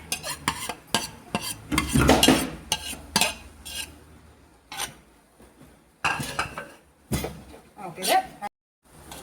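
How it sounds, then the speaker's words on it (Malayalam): A metal spoon stirs and scrapes cockle meat with fried ingredients in a cooking pan, giving irregular clanks and scraping strokes with short pauses between, along with faint sizzling. "വറുത്ത് വെച്ചിരിക്കുന്ന സാധനം എല്ലാം ഇട്ട് കക്ക കൂടി അതിലോട്ട് ചേർത്ത് കൊടുക്കാം."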